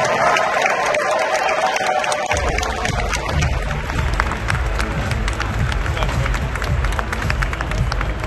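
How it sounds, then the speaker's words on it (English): Audience applause and cheering at the Grammys in Las Vegas, a loud sustained wash of clapping mixed with crowd noise and babble, filling the space without pause. "Applause, please."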